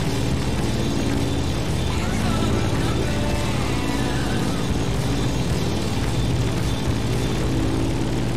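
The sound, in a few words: airplane flying, from video game The Crew Motorfest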